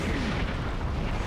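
A bomb explodes in the video game Conker's Bad Fur Day, giving a dense, loud, rumbling blast that fills the short moment with no talk over it.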